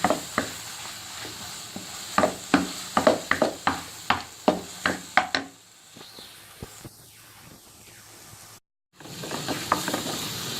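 Apple halwa with khoya stirred and cooked in a pan, the spoon scraping in a quick run of a dozen or so rhythmic strokes before a quieter pause and a final stretch of stirring.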